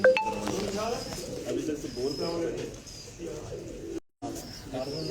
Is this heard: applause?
no